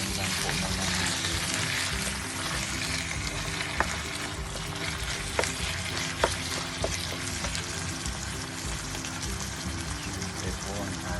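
Ground beef fries with garlic and onion in a hot pan, a loud close crackling sizzle broken by occasional spoon scrapes and taps as it is stirred, with a voice talking over it at times.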